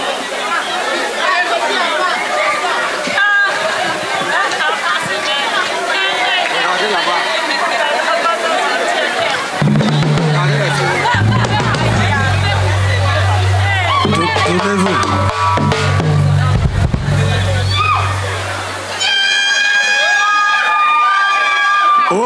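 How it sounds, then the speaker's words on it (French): A crowd of children cheers and acclaims during a church service, loud, lively chatter and shouts throughout, with a low sustained tone joining midway and a voice briefly audible near the end. "Tous les petits enfants vont acclamer Jésus-Christ"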